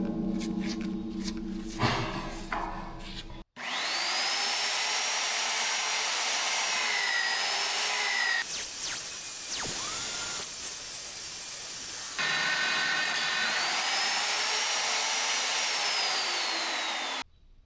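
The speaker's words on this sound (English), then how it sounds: "The drill that I'm using, it's an Alpha RRB35B." Alpha RRB35B magnetic drill cutting steel for a gantry walkway build, a loud sustained whining drone that runs steadily, cuts out briefly, then resumes for several more seconds.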